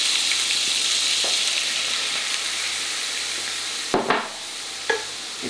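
Coq au vin fries in a pan as flour is stirred in, a steady close sizzle with a spoon or utensil scraping and knocking against the pan a few times near the end.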